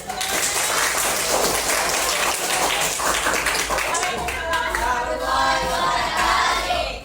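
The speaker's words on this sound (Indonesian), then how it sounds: "berikan tepuk tangan" A classroom of students giving a round of applause, dense sustained clapping for several seconds, with voices chattering underneath as it tapers off.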